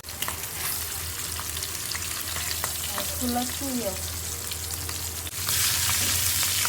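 Onions frying in a pan on a home stove hiss in a steady, close sizzle, briefly stirred midway and growing louder and brighter near the end.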